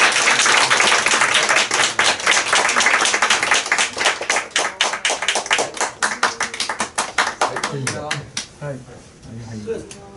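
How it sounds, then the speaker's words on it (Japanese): Audience applause with clapping at a live magic show, part of a Toyama charity concert, heard loud and dense, then thinning into scattered claps toward the end. "皆さんもう一度盛大な拍手をお願いいたします。"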